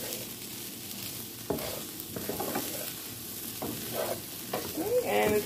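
Fried rice with beef and fish sizzles in a hot pan, a steady frying hiss broken by repeated scraping and clinking stirs of a utensil against the pan, close by.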